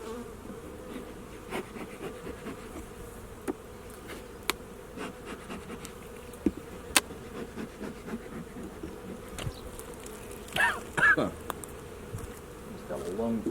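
Honey bees buzz continuously around an opened hive during a beekeeping inspection in Colorado, a dense close drone with occasional louder passes of single bees near the microphone.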